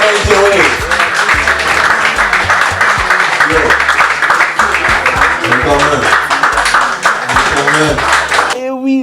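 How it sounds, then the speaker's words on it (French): A night club crowd applauds during a Metro Night Club competition, loud dense clapping mixed with music and cheering voices that continues throughout and cuts off abruptly near the end. "Un tonnerre d'applaudissements pour Maman Joey."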